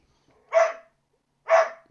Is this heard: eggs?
no